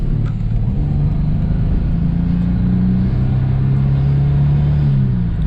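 An old Ford Falcon with noisy lifters revving under throttle, a loud close engine drone rising and holding in pitch, steady and continuous throughout with no voices.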